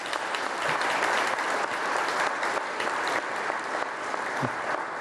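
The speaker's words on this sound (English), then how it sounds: "And one more round of applause for all of them," Steady, full applause from guests at a Harvest for Hunger recognition breakfast honoring award winners, continuous clapping throughout with no speech.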